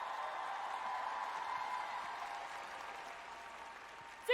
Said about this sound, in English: 鼓掌的时候，我们一定要大声的鼓掌。